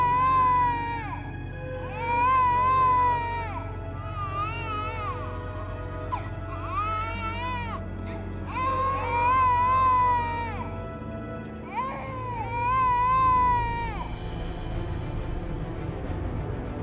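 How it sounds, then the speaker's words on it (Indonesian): An infant wails in repeated rising-and-falling bursts, about five long cries separated by short pauses, fairly close and steady against a low background hum. "Kok aku seperti mendengar suara bayi nangis ya?"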